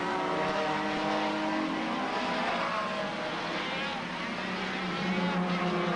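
Formula 1 cars from 1985 roar under acceleration in the rain at the Portuguese Grand Prix at Estoril, a steady, loud engine drone over hissing spray, with a commentator speaking over it.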